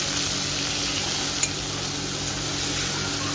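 Potatoes and peas with cumin frying in a pan make a steady, dense sizzle throughout, with one small click midway and no talking.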